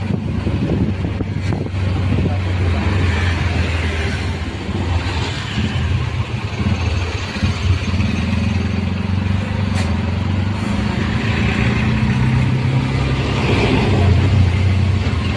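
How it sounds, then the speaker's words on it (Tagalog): Car traffic on a rainy Saturday road, heard from inside a vehicle: steady broadband road and engine rumble with wind noise, continuous and fairly loud, with no talking. "Oo, traffic na."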